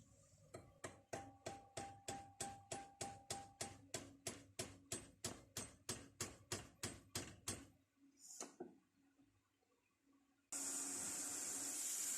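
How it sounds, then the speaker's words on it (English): A pin is tapped into a Stillson wrench with a hammer, about twenty sharp metallic taps in a steady, even rhythm, close and loud, then a brief scrape and a burst of hiss near the end. "I'm just going to use the pin that I took out of the 14-inch record and tap it in."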